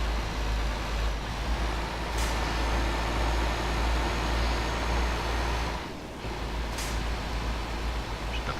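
Simulated truck in Euro Truck Simulator 2 driving through open Russian countryside, a steady low engine drone and road rumble that holds throughout, with a brief dip near the end and no talk.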